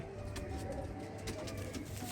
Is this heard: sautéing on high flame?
no